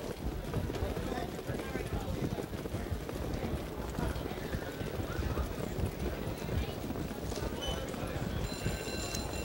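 Seven harness racing horses in a $37,500 open pace race at the Meadowlands, with dense clip-clop of hooves churning steadily on the track under constant wind noise, while an announcer calls the race over it.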